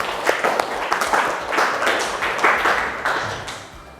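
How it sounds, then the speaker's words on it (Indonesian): Group 6 receives applause from a classroom audience, scattered clapping of many hands at moderate loudness, irregular and continuous for a few seconds before tapering off. "Kita beri aplaus untuk kelompok 6."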